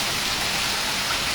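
Steady rain falling in Jhuddo, Mirpurkhas, a dense, even hiss of drops throughout, moderately loud with no voices.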